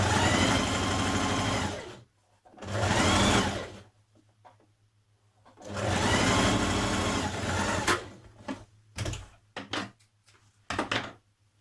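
A sewing machine stitching pocket lining to trouser fronts at a 1.5 centimetre seam allowance, several loud whirring runs of stitching separated by quiet gaps, followed by short handling knocks and clicks.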